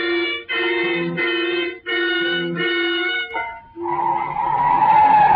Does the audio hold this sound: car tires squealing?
yes